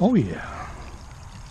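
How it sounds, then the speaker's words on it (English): Water pumps out of a pipe in a backyard with a steady, fairly loud pouring rush that carries on evenly after a short spoken exclamation at the start. "I came out to check on this water pumping out"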